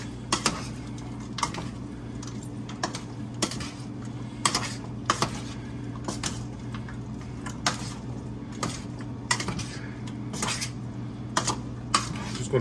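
Metal spoon scraping and clanking against a big pot as meat and beans are stirred into stock, a series of sharp irregular clinks over a steady low hum.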